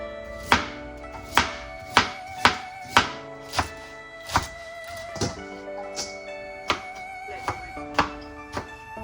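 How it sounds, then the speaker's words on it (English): A knife chops cilantro substitute steadily on a cutting board, about a dozen crisp thuds at an even pace, with sustained musical tones underneath. "Chopping up some cilantro substitute."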